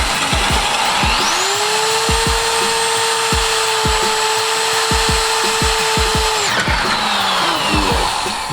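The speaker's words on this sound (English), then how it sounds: "it's my drill bits. And the drill." An electric drill spins up with a rising whine, runs steadily for several seconds, then winds down, with repeated knocks and clatter around it, during a K-series engine swap on a Honda Del Sol.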